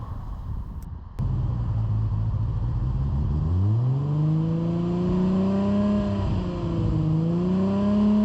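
During an exhaust noise test, a car engine runs steadily, then revs up and holds a rising tone at test speed before the throttle is released and it drones on, close and loud.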